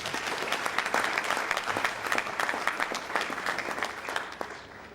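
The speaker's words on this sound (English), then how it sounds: "Let's give them a round of applause." An audience at a student union inauguration in Sierra Leone gives a warm round of applause, continuous clapping at moderate distance that fades toward the end.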